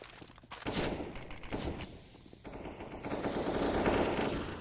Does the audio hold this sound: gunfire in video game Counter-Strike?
yes